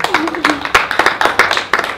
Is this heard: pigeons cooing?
no